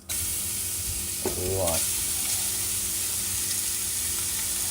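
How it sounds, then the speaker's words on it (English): Bacon sizzling in a hot pan for potato, bacon and leek soup, a constant bright hiss throughout with a brief stirring scrape, while someone speaks a few words over it. "So here, get the sizzle going."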